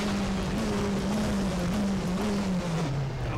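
A WTCC touring car at Macau in a racing game holds a steady, close engine drone, its pitch stepping down in small drops as it shifts down gears under braking.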